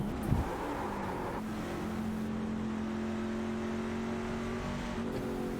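Racing trucks lap the Canadian Tire circuit, their engines droning with a sustained tone that shifts pitch as they run, plus a brief thump near the start, steady and moderately loud.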